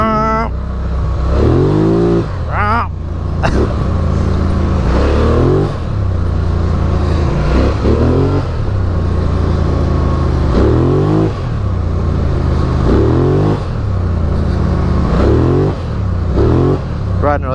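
A Polaris Sportsman 1000 XP ATV engine revs repeatedly, rising and falling in loud, close throttle bursts with a rumbling tone, while a person speaks over it.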